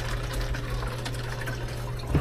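Water runs steadily into a container at a home, a continuous close gushing splash with a low hum underneath and a louder surge at the end.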